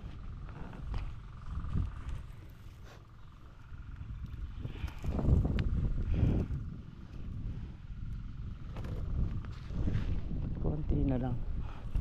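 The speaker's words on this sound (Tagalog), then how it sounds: "nalakas na naman ng hangin." Strong gusting wind roars and buffets outdoors, swelling and easing in waves, with faint background noise.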